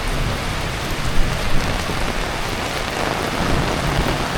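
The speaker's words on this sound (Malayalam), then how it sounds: "ഇവിടെ നല്ല മഴ പെയ്യുന്നുണ്ട്. രാവിലെ തുടങ്ങിയ മഴയാണ് കേട്ടോ, നിർത്താതെയുള്ള മഴയാണ്." Heavy, unbroken rain pours outside a house on the island of Sumatra during flooding, a dense, loud steady hiss with no voices.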